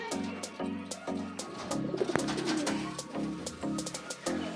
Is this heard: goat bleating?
no